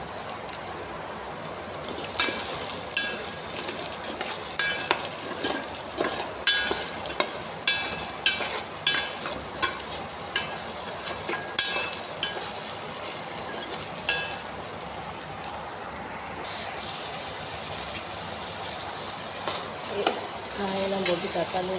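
Potatoes and mixed vegetables stirred inside a rice cooker, with a steady sizzle under repeated scraping and clinking strokes of a spoon against the pot, close and fairly loud throughout, with no speech heard.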